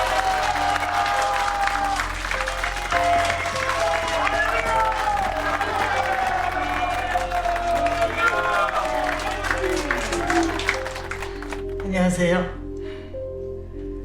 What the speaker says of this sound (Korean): 큰 박수로 두 분을 축복해 주십시오